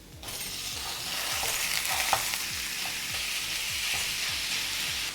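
One pound of ground beef fries in a pan with herbs and spices, a steady loud sizzle running throughout with a rhythmic scraping of stirring repeating every half second, close and without talk.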